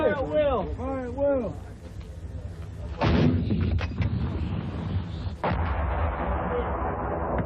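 A military artillery gun fires rounds at a target over 9 miles away during an 82nd Airborne Division exercise, giving loud booming blasts at about 3 and 5.5 seconds after speech, with rumbling decay and wind noise.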